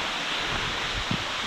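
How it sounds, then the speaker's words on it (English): Roaring mountain stream with a chain of waterfalls along a trail in Baxter State Park, Maine, heard as a steady, dense broadband rush of water that stays even and fairly loud throughout, with no voices. "I've been following this stream for most of the trail so far, and you can hear it roaring"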